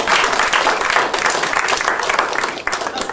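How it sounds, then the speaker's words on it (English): A seminar audience claps together for two participants in a dense, steady burst of applause that fills the short stretch at close range. "Give them a clap."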